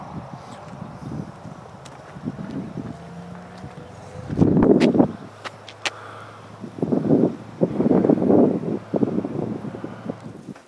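Gusts of wind buffet the microphone in rumbling bursts, with a faint hum and a few sharp clicks between them.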